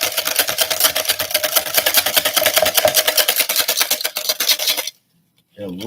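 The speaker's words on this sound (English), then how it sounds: "you're going to whisk the eggs like this" Eggs whisked briskly in a bowl, producing a fast, steady, rhythmic clatter of the whisk against the sides that continues close up for about five seconds before stopping abruptly.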